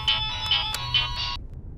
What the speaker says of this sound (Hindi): भैया के फोन बारे उठावा उठावा।